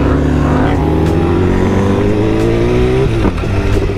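BMW S1000RR liter-bike engine heard up close, a loud sustained rev climbing steadily in pitch over several seconds before a brief dip as the throttle eases, then picking up again.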